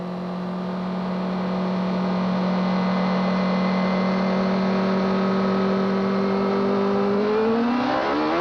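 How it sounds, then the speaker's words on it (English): Nigel Mansell's CART race car engine at the 1993 Mid-Ohio race holds a loud, steady idle drone for most of the stretch, then its pitch climbs sharply as the car launches with wheel spin at the start. "Let's listen to the motor"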